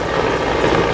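A Mi-17 helicopter hovering nearly motionless over a drop point during a firefighter rescue exercise, a loud, close, continuous rotor and turbine roar with a steady thrumming beat.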